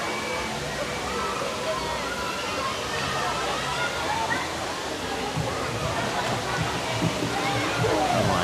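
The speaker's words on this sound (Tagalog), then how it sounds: "Lakas ng source ng tubig." Strong spring water rushes steadily at an outdoor swimming spot, a loud continuous roar like a small waterfall that holds unbroken from start to finish, with faint crowd murmur in the background.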